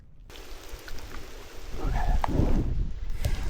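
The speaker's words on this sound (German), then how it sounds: "Also der Regen wird immer stärker." Heavy rain pours through a forest, a dense steady hiss of drops on leaves and ground that swells louder toward the end, close and enveloping with no voices.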